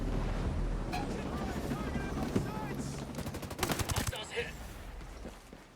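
Gunfire from the video game Ghost Recon Breakpoint, a burst of rapid shots near the end over a busy, noisy game soundscape with wind and a faint voice.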